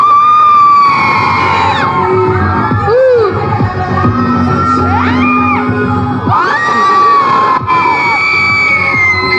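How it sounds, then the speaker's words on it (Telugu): A crowd at a children's festival celebrating Alluri Seetharama Raju's 125th birth anniversary cheers and shouts loudly and continuously, with high children's whoops and whistling cries rising over a dense, reverberant din. "చప్పట్లు చాలా గట్టిగా కొట్టాలి"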